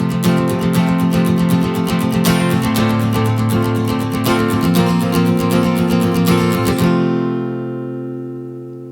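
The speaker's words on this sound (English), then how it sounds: "you could play 16th notes on the chorus. I would just recommend that you play on the lower strings" Acoustic guitar strummed in a steady 16th-note rhythm on the lower strings only, a close and loud worship-song chorus pattern that rings for about seven seconds before the chords are left to fade out.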